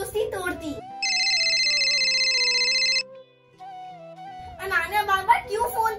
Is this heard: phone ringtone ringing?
yes